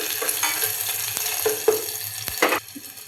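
Dry red chillies and garlic frying in a few spoons of hot oil for pepper sambar, a steady close sizzle with light stirring and scraping clicks throughout.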